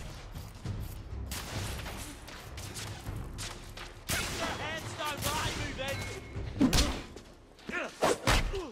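Shotgun blasts in The Order: 1886, sharp booms within dense game combat, mixed with a voice talking over the action and several loud bursts near the end.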